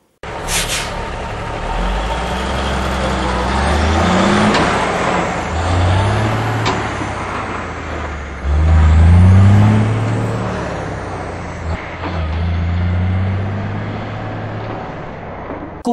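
Heavy truck engine rumbling loud and close, with surging revs and hissing bursts of air brakes over sixteen seconds of steady traffic noise.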